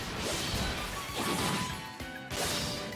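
A double slash sword attack in the Atelier Resleriana battle game, with swift whooshing swipes and crashing impacts surging in two or three loud waves over a dense, continuous mix of effects.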